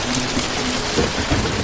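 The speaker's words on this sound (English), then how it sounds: "Rain poured down on the mountains above the valley." Heavy rain pours down over mountains in a dense, continuous wash of hiss, loud and steady with no voices.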